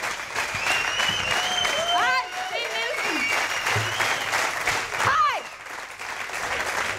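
A comedy show audience applauds a comedian with steady clapping as she comes on. Whistles cut through the clapping, and a voice speaks briefly over it.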